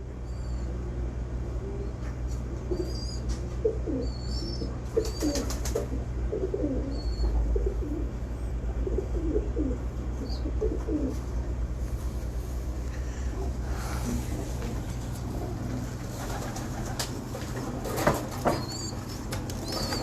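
Domestic pigeons at a breeder's loft cooing in soft, repeated low murmurs over a steady background hum, with occasional wing flutters and distant chirps; no talking.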